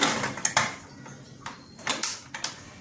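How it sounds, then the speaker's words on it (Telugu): Pressure cooker lid being closed over lentils and spinach in a kitchen, a series of sharp metallic clicks and clacks in irregular bursts, close and distinct with no talking. "ప్రెషర్ కుక్కర్ మూత పెడతాం"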